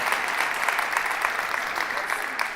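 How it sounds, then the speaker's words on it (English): A crowd at the Flint State of the City address breaks into full, loud applause, a dense continuous roar of clapping that holds steady for a couple of seconds. "And that deserves a round of applause,"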